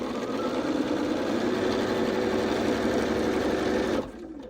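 Sewing machine stitching a quilt seam in one steady, continuous whir at close range that stops abruptly near the end.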